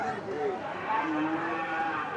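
A cow moos in a long, low, drawn-out call, fairly close, over a noisy background at a cattle market.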